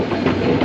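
The Dhumketu passenger train on the Dhaka to Rajshahi line gives a brief, steady, close rumble of rolling stock with a dense mid-range roar and no clear breaks.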